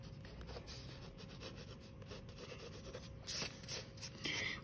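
A pencil scratches lines on paper while a red fox is sketched, a soft, steady rasping stroke that continues alone throughout, growing a little brighter and louder toward the end.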